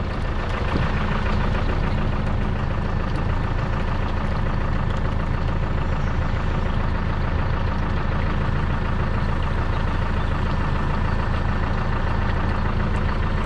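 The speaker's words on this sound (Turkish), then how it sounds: "Dışarıdan kuyruk milini çalıştım arkadaşlar." A Deutz-Fahr tractor runs with its PTO shaft engaged, a steady, loud low engine drone with mechanical rattle that holds constant throughout, heard up close with no talking.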